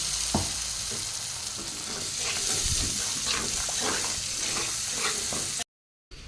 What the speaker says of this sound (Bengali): আর এখানে বেটে রাখা মশলাটা দিয়ে দিলাম।